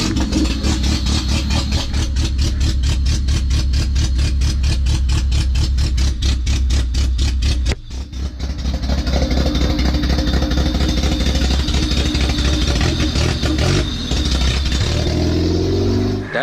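A car engine fitted with a multipoint fuel injection conversion runs loud and steady through an open exhaust, its rapid pulsing idle continuous with a brief dip midway.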